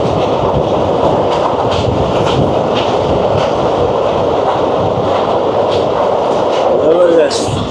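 Shah Latif Express train rolling on rails through the Thar Desert in Pakistan, a steady loud rumble with clattering wheel noise and faint rhythmic clicks, with a voice speaking over it.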